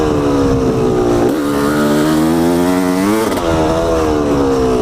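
A dirt bike ridden at race pace on an off-road hare scramble trail, its engine roaring loud and close throughout with steady harmonic whine, pitch rising and dipping as the throttle is worked and gears shift.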